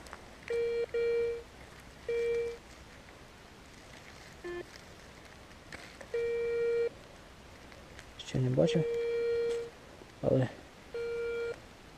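Repeated electronic beeps from a metal detector, steady tones in short bursts, then a warbling, broken signal near the end.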